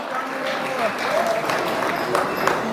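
Audience applause at a live dance event in Chennai, moderate clapping with a few sharper claps popping out, mixed with a murmur of crowd noise and some voices underneath.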